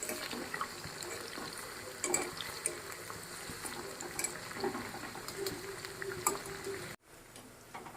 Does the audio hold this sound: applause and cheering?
no